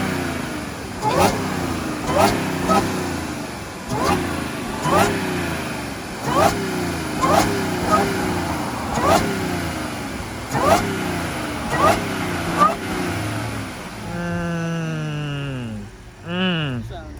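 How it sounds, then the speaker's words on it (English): A single-turbo RB20-swapped Nissan S13 hatchback engine revs repeatedly in loud, evenly spaced bursts, roughly every second and a half, each rising and falling, with people talking in the background before a final sharper rev near the end. "Let me hear the supercharger."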